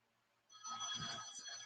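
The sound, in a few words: phone ringing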